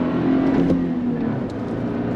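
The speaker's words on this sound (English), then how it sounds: "On throttle, here we go, yeah! Chirping tire's a happy tire." A 2024 Toyota Tacoma TRD Sport with a six-speed manual accelerates hard, its engine roaring loud and close with a steady rising drone; no distinct tire chirp stands out.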